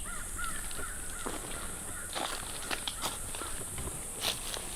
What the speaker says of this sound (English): Y'all hear that crow?